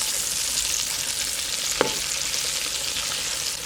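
Breaded chicken pieces for a zinger burger deep-frying in hot oil, a dense, steady sizzle and bubbling throughout at close range, with one faint clink partway through and no voices.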